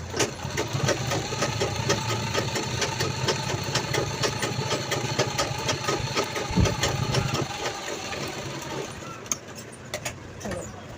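A sewing machine stitches a zip onto a pencil pouch made from old jeans, running in a steady fast mechanical rattle for most of the time, then slowing and stopping near the end.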